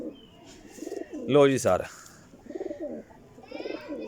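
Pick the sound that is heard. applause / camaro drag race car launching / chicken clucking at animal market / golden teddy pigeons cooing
golden teddy pigeons cooing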